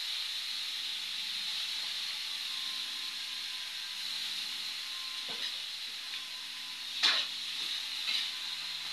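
Food sizzles steadily in a pan at lunch cooking, a constant hiss with a few faint knocks and clinks of a utensil stirring, no talking.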